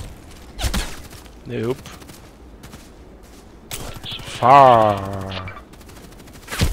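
Sniper gunfire in the video game Contract Wars: a few sharp, loud shots spaced seconds apart, with a man's brief speech between them over steady game ambience.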